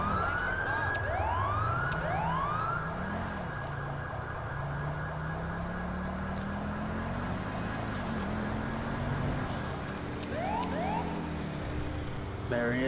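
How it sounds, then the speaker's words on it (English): Wailing ambulance siren in the video game GTA 5, with rising and falling sweeps over a steady engine and traffic drone. It sweeps loudly near the start and again near the end. "Oh, an ambulance is coming out."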